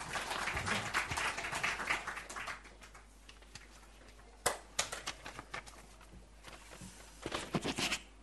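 Audience at the opening of a Korea-China software forum in Beijing applauds warmly, a dense burst of clapping that thins out, followed by scattered claps and a second brief flurry near the end.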